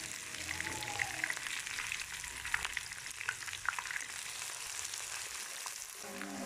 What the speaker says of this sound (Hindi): अब इसमें हम ये प्याज ऐड कर देते हैं।